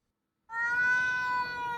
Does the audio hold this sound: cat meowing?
yes